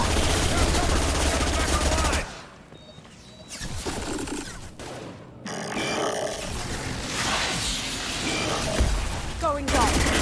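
Gunfire from a Mass Effect 2 firefight, loud automatic bursts at the start, then a quieter stretch before shooting, roars and combat noise build again, with game voices speaking over the action.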